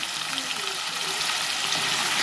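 Drumstick pieces fry in oil in a pan, making a steady, close, bubbling sizzle that stays even throughout.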